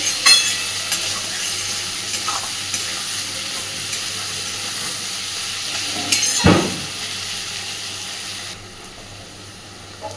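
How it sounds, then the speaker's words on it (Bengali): Onions frying in a pan until translucent, for an egg and soybean dish, make a continuous sizzle with occasional stirring scrapes, one sharp clatter near the end, then a softer sizzle. "ততক্ষণ পর্যন্ত ভাজবো যতক্ষণ না পেঁয়াজটাও সুন্দরভাবে একটু স্বচ্ছ হয়ে আসছে।"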